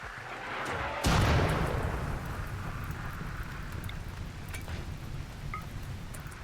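Cannon fire striking a base in the video game RimWorld: one loud, sharp blast near the start, followed by a long rumbling, crackling wash of debris and fire that fades slowly.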